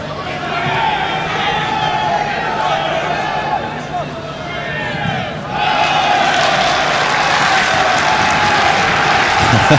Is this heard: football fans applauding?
yes